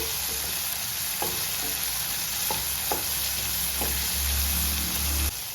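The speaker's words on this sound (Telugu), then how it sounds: "కొంచెము గోల్డెన్ కలర్ వచ్చేంత వరకు వేయించుకుంటాము" Chopped onions sizzle steadily in hot oil in a pan, cooking until golden for peanut chutney, with a few soft clicks of stirring over the continuous loud frying hiss.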